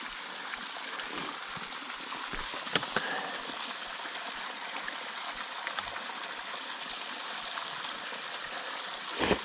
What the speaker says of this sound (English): I knew I heard water flowing pretty good.